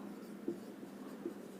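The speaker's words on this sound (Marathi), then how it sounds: "इथे लिहितोय मी" Chalk or marker scratches across a board during a math lecture in faint, soft strokes, with a couple of sharper squeaks standing out against quiet room tone.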